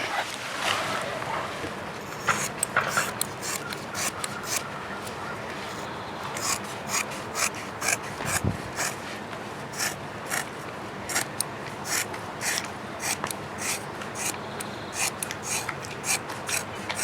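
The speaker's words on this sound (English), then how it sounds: "I'm just going to cut a piece of this off, and then we will start fitting it." Fiberglass fabric being cut with scissors for a wooden boat deck leak repair, a steady run of close, rapid rasping snips and rubbing strokes with no voices.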